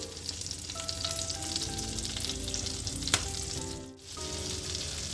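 Steady, crackling sizzle of pork chops frying in butter and olive oil with herbs in a hot pan, with a few louder pops and a brief dip midway.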